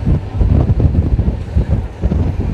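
Strong wind rushing past an open door of a moving intercity express train buffets and roars right against the microphone in loud, gusty bursts, with the low rumble of the train underneath.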